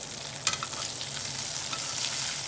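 Mushrooms fry in butter in a pan, giving a steady, close crackling sizzle with scattered sharp pops and no voices.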